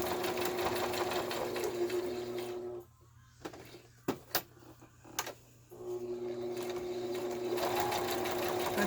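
Sewing machine stitching through card for a ring binder journal: fast, even mechanical whirring that stops for a few seconds with a couple of clicks, then starts stitching again, close and clear.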